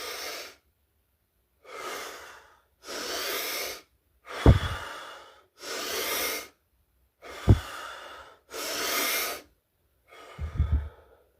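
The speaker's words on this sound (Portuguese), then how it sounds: "vai na natureza ou aonde você puder fazer uma hiperventilação e você vai fazer pela boca" A person hyperventilates through the mouth: eight forceful, rhythmic breaths, each a rushing hiss of air about a second long, separated by short pauses, close and loud with no talking.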